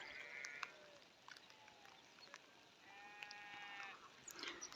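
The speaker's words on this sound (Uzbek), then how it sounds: "Shu yerda bir qo'y bor, bir sürü." Sheep bleat several times across open hillside pasture on a foggy day, the calls of a flock grazing among thorny brush, moderately distant over faint background noise.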